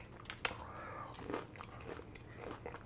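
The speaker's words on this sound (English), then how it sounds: "The crunch, the skin, oh my gosh, I love the skin on the chicken." Near, quiet chewing of crunchy buttermilk fried chicken skin, a sharp crunchy bite followed by repeated crackly mastication sounds over about three seconds, with no voices.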